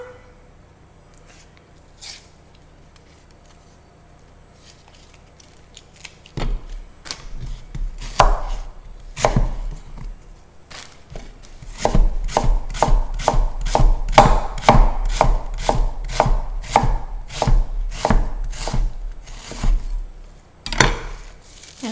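A knife chops half an onion on a board, starting with a few scattered cuts and then breaking into a fast, steady run of sharp, close strokes that grows louder toward the end.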